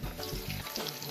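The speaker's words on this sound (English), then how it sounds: "my oil is hot now, so I'm just gonna go ahead and put a scotch egg in." Scotch eggs dropped into hot oil in a small frying pan give a steady, close bubbling sizzle. It holds for just over a second with no talk.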